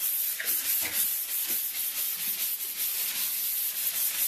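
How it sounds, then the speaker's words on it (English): A sanding sponge rubs across a painted wall in a continuous, close, scratchy hiss with faint rhythmic strokes and no talking. "I kind of like these sanding sponges though."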